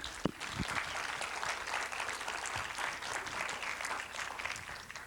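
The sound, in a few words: audience applause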